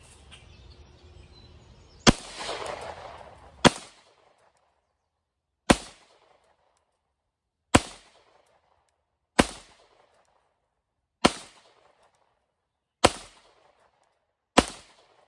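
A 9mm CZ P-09 handgun fired outdoors at bowling pins: eight sharp, loud shots spaced about one and a half to two seconds apart, each with a quick decaying echo, alone with no talking.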